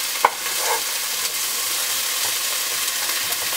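Egg whites and bell peppers sizzle steadily in a frying pan while a utensil stirs and scrapes them together, with one sharp knock near the start over a constant frying hiss.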